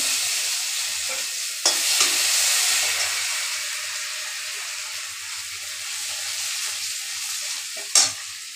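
Ginger, garlic and chopped onions sizzle in hot oil with panch phoron and a dried red chilli, a steady close frying hiss with two sharp bursts where more ingredients land in the pan.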